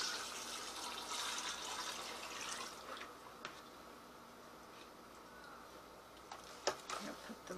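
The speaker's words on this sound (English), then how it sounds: "now I'm going to pour it over my plums" Liquid is poured over plums for homemade plum wine, a soft continuous splashing pour that fades midway, followed by faint drips and light clinks from the container.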